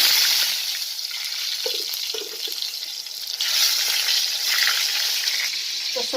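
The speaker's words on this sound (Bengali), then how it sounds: "এখন আমি বেগুনগুলো ভাজবো তেলটা গরম হয়ে গেছে" Eggplant slices fry in hot oil, giving a dense, hissing sizzle that swells partway through, with a few soft knocks from the pan.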